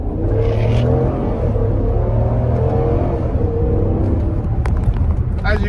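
A 2014 Jeep Grand Cherokee with a Hemi V8 accelerates hard, its engine roaring loud and close as the revs climb steadily, with a voice speaking over it.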